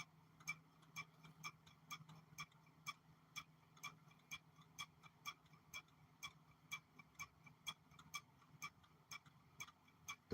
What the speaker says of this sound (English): That is them there lie detector things that rock and click.